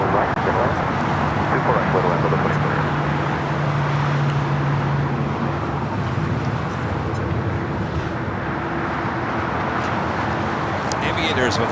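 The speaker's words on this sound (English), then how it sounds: "Next takeoff is the All Dreamliner Flight 6 heading to Tel Aviv" A Boeing 787 Dreamliner takes off from runway 24 right at LAX, its engines a broad, steady roar with a low tonal hum, loud and continuous throughout with faint talk beneath.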